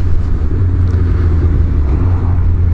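Motorcycle engine held at high revs, a loud steady droning rumble close by with no talk over it.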